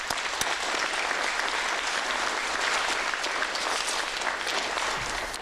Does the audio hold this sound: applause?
yes